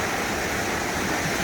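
A flooded river rushes in a dense, steady roar of moving water, loud and continuous with no pauses or voices.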